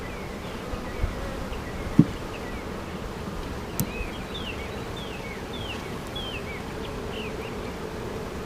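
Honeybee swarm newly housed in a hive with fresh wax, giving a steady, dense buzzing hum throughout, close and even with a few faint knocks and no talking.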